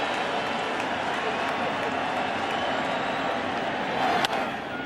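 A packed ballpark crowd at a 2009 Phillies World Series game keeps up a broad, steady roar of cheering and scattered clapping, rising slightly near the end, with a voice talking over it.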